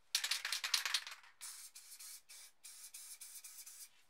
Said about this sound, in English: So I'm just going to spray this onto a spare piece of paper first and get some paint through